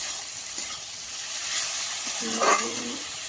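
Spice paste sizzles steadily while being sautéed in a pan over a wood fire for a prawn and taro-leaf dish, a faint continuous hiss with a few soft scraping stirs.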